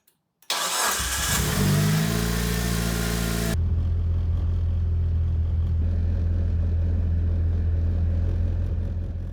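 A car engine cranks and catches, revving loudly at first, then drops to a steady, rumbling idle as it warms up after its spark plugs and coils are refitted, close and continuous with no talk.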